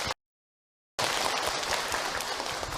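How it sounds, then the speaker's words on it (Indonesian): Applause for Umi from the audience at an Islamic iftar talk: a brief burst, a moment of total silence, then a dense, even wash of crowd clapping that continues steadily to the end. "Tepuk tangan untuk Umi."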